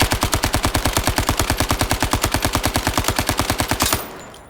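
A P90 submachine gun in the Zero Caliber VR shooter fires one long rapid, evenly spaced burst of about forty loud shots at close range, stopping abruptly near the end into a faint mechanical rattle.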